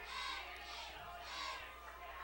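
A Friday night high school football crowd in Fairview, Tennessee, during a game against Mt Pleasant, makes a distant roar that swells and ebbs in waves, with some voices mixed in.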